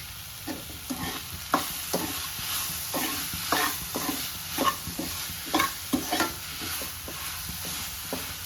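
Raw mango tempering fries in a pan for mango rice, a steady oily sizzle broken by regular scraping stirs roughly every half second, close and clear with no voices.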